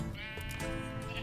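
Sheep bleating in the Minecraft video game, a single wavering bleat that is loud and close, lasting just over a second on its own.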